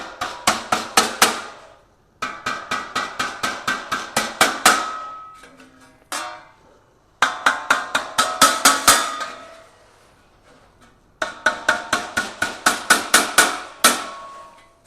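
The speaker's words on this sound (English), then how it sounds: "take your hammer and gently tap them round" Close hammer taps on the metal tabs of a galvanised steel chicken feeder come in four quick runs of sharp, ringing strikes, separated by short pauses.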